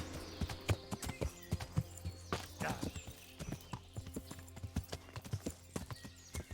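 Horse hooves clip-clop in a steady walking rhythm in the medieval game Kingdom Come: Deliverance, with a short whinny partway through, close and clear over a low background hum.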